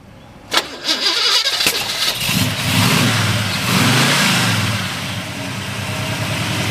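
A 1969 Pontiac GTO V8 cranks briefly with a few sharp turns, then fires and catches into a loud, rumbling idle that settles and stays steady up close.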